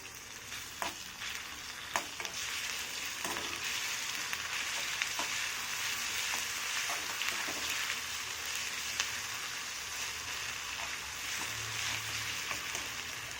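Garlic and cumin frying in a pan with onions and chillies, a steady soft sizzle broken by intermittent stirring clicks and scrapes, fairly quiet and without talk.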